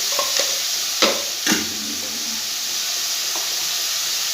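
Turmeric and cumin powder frying in a pan with salt for a potato curry hiss in a loud, continuous sizzle, broken by a few sharp stirring scrapes near the start, with no talking.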